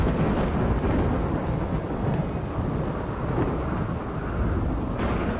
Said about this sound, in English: Rainy thunderstorm